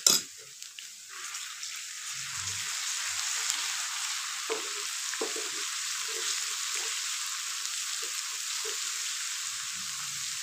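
Garlic ginger paste fries in hot oil with lightly browned onions, a steady close sizzle with occasional soft stirring scrapes and clinks, no talking.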